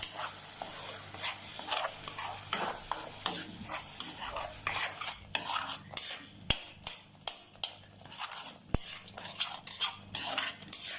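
A ginger-garlic and onion paste for cabbage masala is stirred in a pan, with repeated scraping and clinking of a utensil against the metal over a soft sizzle and a few sharp knocks, close and fairly loud.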